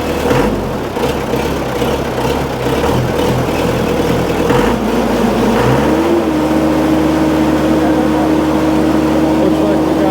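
Case 1845 skid steer engine running hard and close, a loud steady throbbing roar that shifts to a higher, smoother pitch partway through as the throttle rises.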